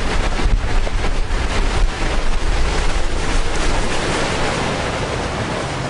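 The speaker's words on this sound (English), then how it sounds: "you can see the waves breaking on the end of the wall" Waves break and wash against the end of the Charlestown Breachway wall, a steady, loud roar of surf with wind buffeting the microphone, and no voices.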